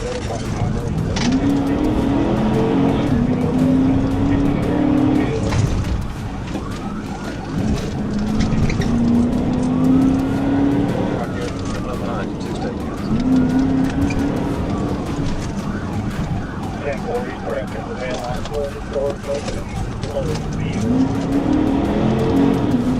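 A fleeing car speeds through residential yards during a police chase after a hit and run on I-630, its engine revving and rising in pitch in repeated surges, with tire noise, under continuous narration.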